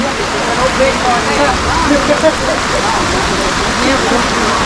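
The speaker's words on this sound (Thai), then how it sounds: "เพราะว่าฝนมันจะตกลงมา" Steady rain pours down over a village, a dense even hiss that fills the scene without pause.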